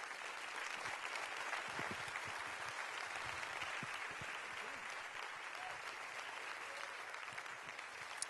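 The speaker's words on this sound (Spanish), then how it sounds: "vamos a recibir con un fuerte aplauso al pastor Andrés Corson" A church congregation at Lakewood gives Pastor Andrés Corson loud, sustained applause. The thick, even clapping fills the whole stretch, heard at a distance and without talk.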